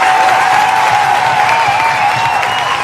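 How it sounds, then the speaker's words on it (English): An audience applauding steadily and loudly throughout, a dense continuous patter of clapping with a faint tonal hum beneath. "Clap it up for yourselves."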